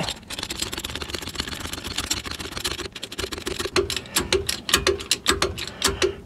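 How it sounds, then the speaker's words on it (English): A Harbor Freight 8-ton bottle jack is pumped up under an axle saddle, giving a close series of sharp ratcheting clicks that turn into a steady, evenly spaced rhythm toward the end. "then we can go ahead and jack it up."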